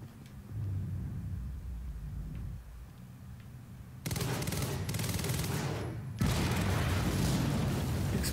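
Heavy explosions and rolling booms with crackling bursts in Quantum Break, loud and continuous, growing more intense toward the end; no voices.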